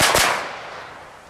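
A single sharp firework bang cracks out, followed by a short fading echo.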